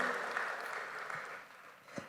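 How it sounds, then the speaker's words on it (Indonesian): A church congregation gives a faint, distant round of applause during a worship service, a soft, even wash of clapping that thins out toward the end, with a couple of slightly louder claps near the close. "Tepuk tangannya boleh yang paling meriah buat Yesus Tuhan kita."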